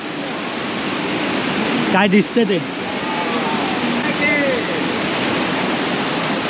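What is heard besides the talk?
waterfall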